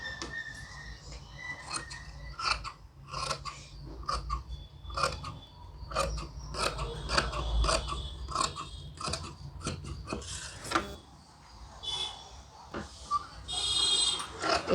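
Scissors snip repeatedly through gold saree cloth, a steady run of close, crisp cuts with faint metallic clicks and rustling fabric throughout.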